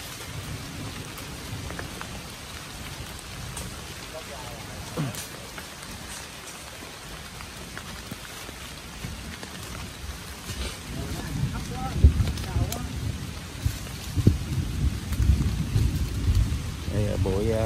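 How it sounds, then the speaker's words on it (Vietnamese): Heavy rain pouring in a hilly forest in Dong Nai late in the afternoon, a constant hiss of downpour with low rolling thunder that grows louder and more rumbling toward the end, and someone talking now and then. "Mưa lớn luôn rồi bạn ơi."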